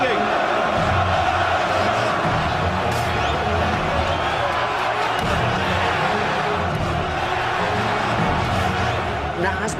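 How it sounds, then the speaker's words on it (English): A packed boxing arena during a Nigel Benn fight, the crowd roaring, chanting and singing in a loud continuous wall of voices with occasional shouts and whoops rising above it. "Listen to this crowd,"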